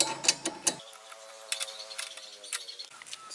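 A bolt is tightened on a bracket for a Mio Sporty motorcycle, giving rapid metallic ratchet clicks and clinks in short irregular bursts, close and fairly faint.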